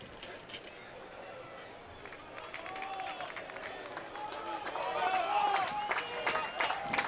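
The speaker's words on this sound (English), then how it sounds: "So the crowd encouraging Rafa Diaz" A soccer stadium crowd rumbles and cheers in encouragement for a goalkeeper, with scattered claps and shouts that swell louder in the second half, heard at a distance under a commentator's voice.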